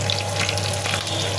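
Onions frying with salt in a pan for a fish and bottle-gourd-leaf curry, a steady close hiss and sizzle with no talk.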